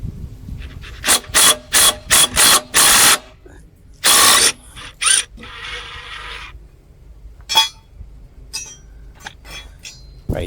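A ratchet wrench cracks loose the bolts under a tilted-back old lawnmower: quick runs of sharp metallic clicks in short bursts, followed by quieter clinks and scattered taps.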